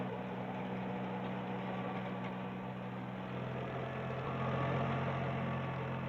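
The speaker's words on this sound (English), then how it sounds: "The rugged 26 horsepower diesel engine of the 1710 makes for easy ploughing in the toughest conditions." Ford 1710 compact tractor from 1983 with a 26 horsepower diesel engine, running at a steady idle with a low, even drone and a slight rise in level toward the end.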